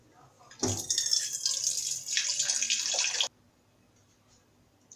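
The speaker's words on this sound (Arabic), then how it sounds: "فانا كده هنزل باللبن زي ما انتم شايفين كده" Milk pours in a steady, fairly loud stream into a shawarma piccata sauce for about two and a half seconds, then stops abruptly, leaving near silence.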